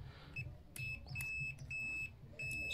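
Multimeter continuity beeps while probing the wiring of a power strip, a series of short, high, thin tones of varying length in a quiet room.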